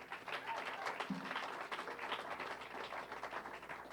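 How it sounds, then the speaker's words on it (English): Applause from an audience at a live-streamed political summer program launch, a dense, steady patter of many hands that keeps going for about four seconds at moderate distance, with no speech over it. "let's give a round of applause for that"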